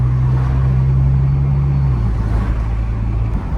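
A car drives steadily along a road, its low engine rumble loud and continuous, with a slight shift in engine tone partway through and no talking.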